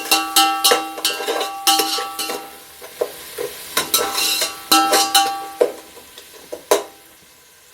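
Chopped onions for Dindigul-style mutton biryani sautéing in a pan, a ladle scraping and clinking against the metal in quick repeated strokes over a light sizzle, close and fairly loud, no voices.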